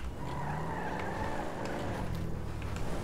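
Mitsubishi Lancer Evo 9 in Grand Theft Auto 5 driving hard with a steady engine drone and a long tire squeal as it skids, loud and close throughout.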